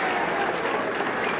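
A banquet hall crowd at a sportsman's trophy dinner rises in a standing ovation, with continuous thick clapping at an even level and some indistinct crowd noise mixed in.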